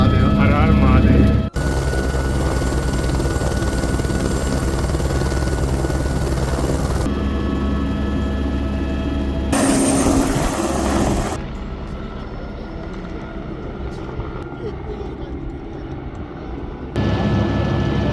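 A helicopter lifts off and flies toward Om Parvat, its engine and rotor roar loud and steady from close inside the cabin, the tone shifting in abrupt sections, with people speaking over it.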